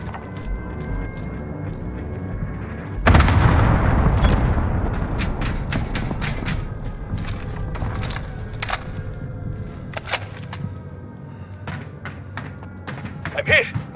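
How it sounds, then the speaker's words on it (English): Bombing run in Call of Duty Warzone: a heavy blast hits suddenly, then rumbling bombardment rolls on with repeated sharp gunfire cracks and distant booms, loud and close, with voices talking beneath the noise. "Head inside and seek shelter from the bombardment."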